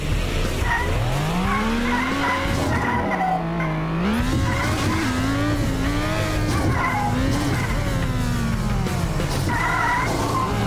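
A car in the Extreme Car Driving Simulator video game skids with long, wavering tire squeals over a roaring engine, the squeal bending up and down continuously for several seconds.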